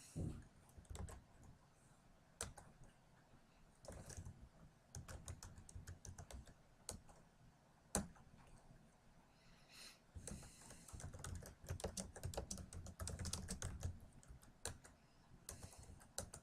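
Fast bursts of typing on a computer keyboard, close and fairly quiet, with clusters of key clicks broken by short pauses and a few sharper single keystrokes.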